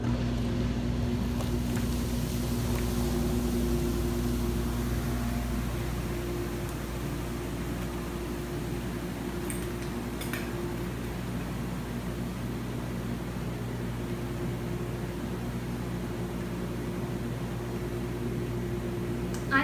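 A jetted tub runs its jets and churns up bubbles, a steady motor hum with a low tonal drone and constant rushing water, loud and unbroken throughout with no talking.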